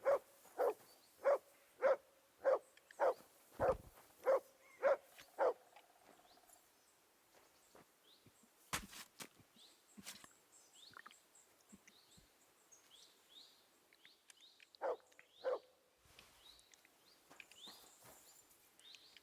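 Dog in Kingdom Come: Deliverance II gives a quick run of about ten evenly spaced barks, near and clear over a quiet backdrop of crickets and birds, then a few scattered later barks.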